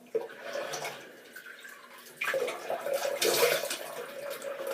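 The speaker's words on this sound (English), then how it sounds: "Just rinse some of that soap off." Running water rinsing shaving soap from a face during a wet shave with a double-edge safety razor, a soft steady splashing flow that turns louder and more turbulent partway through.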